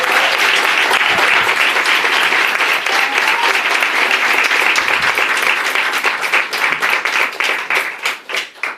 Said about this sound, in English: Let's give Brianna a big round of applause.